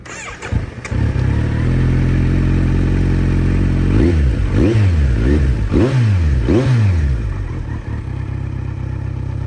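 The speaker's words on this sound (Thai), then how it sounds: "เดี๋ยวฟังเสียงเครื่องยนต์ กันครับ" A Kawasaki Z900 SE motorcycle engine starts and idles with a deep, steady rumble, then revs up and down several times in quick bursts before settling back to idle.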